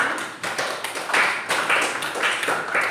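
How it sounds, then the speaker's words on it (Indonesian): Classroom applause for a team of students, a dense patter of many hands clapping steadily for a few seconds in a room, with a faint voice briefly underneath. "beri aplaus untuk tim"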